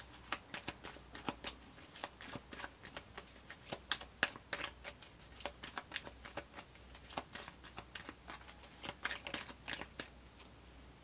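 Tarot cards are shuffled and drawn in quick, crisp riffling flicks and soft slaps that come as irregular bursts throughout, close up and fairly quiet, with no one talking.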